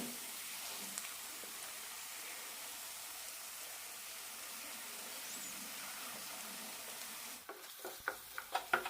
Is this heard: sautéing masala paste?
yes